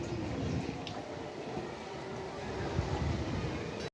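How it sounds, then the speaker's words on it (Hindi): A GEU40 diesel locomotive eases a train into the platform at Badamibagh station, a steady, continuous rumble of rolling wagons and engine at moderate distance, with no talk. "GEU40 लोकोमोटिव जो उसको लीड करके आया है और इसको प्लेटफॉर्म पे अब प्लेस किया जा रहा है।"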